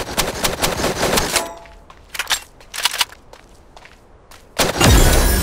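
Gunfire in the mecha combat game Super Mecha Champions: a rapid burst of automatic shots, a scattering of sharper single shots after a pause, then a loud closing blast, all close with no talking.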